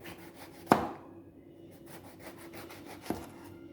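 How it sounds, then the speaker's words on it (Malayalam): A knife cuts an eggplant into small round pieces, giving two sharp, close chops on a board a couple of seconds apart, with soft rubbing and handling noises in between. "ചെറിയ പീസായി കട്ട് ചെയ്യാം കേട്ടോ ചെറുതായി ചെറുതാക്കി റൗണ്ടിൽ"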